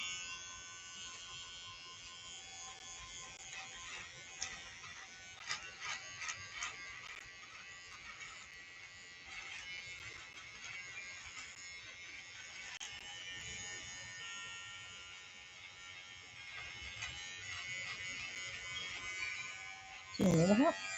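An electric razor buzzes steadily while shaving a head at a St. Baldrick's charity shave event, a close continuous hum running under nearby conversation and a brief louder clatter at the end.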